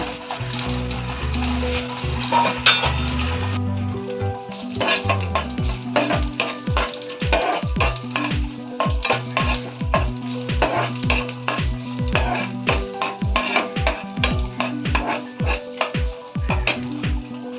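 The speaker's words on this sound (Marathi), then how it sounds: "आईल होऊन गेलं नारळ तेल घालता, सासम आणि मिरसांगे कोचव घालता" Mustard seeds and chili pieces fry in hot coconut oil for a dry prawn upkari, a close, steady sizzle studded with many sharp pops and clicks, plus scraping stir taps, continuing for the whole stretch with no voices.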